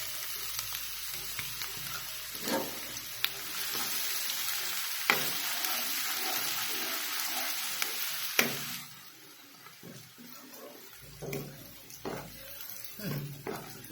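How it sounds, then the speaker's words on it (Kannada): Finely chopped onions frying in peanut oil for egg drop curry, a soft continuous sizzle with sporadic spoon knocks and stirring, quieter after the midpoint, while someone talks intermittently over it. "ಈಗ ಅದೇ ಎಣ್ಣೆ ಒಳಗೆ ನಾನು ಇದು ಸಣ್ಣಗೆ ಕಟ್ ಮಾಡ್ಕೊಂಡಿದ್ದು ಈರುಳ್ಳಿ ಹಾಕ್ತೇನೆ ರೀ"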